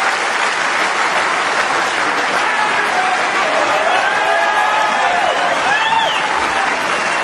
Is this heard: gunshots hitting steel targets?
no